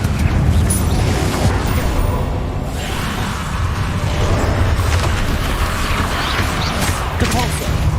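Confringo fire spell blasts in the video game Hogwarts Legacy: repeated booming impacts with crashing, debris-like clatter and whooshes over a dense, busy game soundscape.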